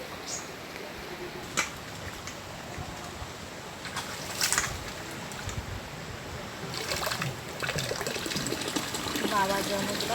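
Water running and splashing while chopped vegetables and greens are washed, a steady close gush that swells toward the end, with someone talking.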